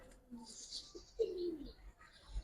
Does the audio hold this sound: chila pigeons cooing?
yes